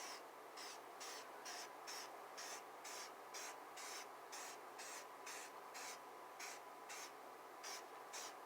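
A spray paint can lays a light coat of camouflage paint on a precision rifle in a rapid series of short, evenly spaced hissing bursts, close but faint, with no talk.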